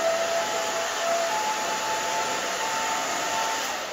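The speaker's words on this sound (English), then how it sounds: "I'm going to just blow dry it a tiny bit." A hair dryer blows on damp curly hair as a steady, loud whirring hum with a constant airy rush and a faint tonal whine, running without pause.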